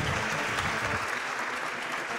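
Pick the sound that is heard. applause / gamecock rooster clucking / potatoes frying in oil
applause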